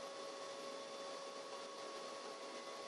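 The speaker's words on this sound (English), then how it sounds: "the machine automatically changes tools to cut the parts out" A CNC machine hums steadily and evenly while it cuts parts from an Alucobond ACM aluminium composite panel, with a constant whine and tonal drone and no breaks.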